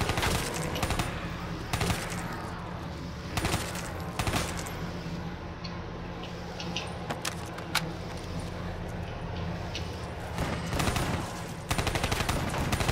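Pistol shots ring out in the Black Ops 3 Shadows of Evil zombies mode, a handful of sharp cracks spaced irregularly over a busy game soundscape with clattering effects.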